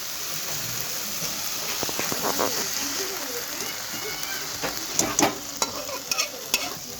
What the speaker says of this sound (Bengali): আর মশলা তরকার ডালটা একসাথে কষিয়ে নেব।